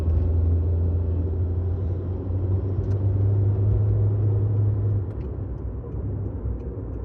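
Street traffic rumbles close by as a steady, loud low engine drone from passing vehicles, easing slightly near the end, with no talk.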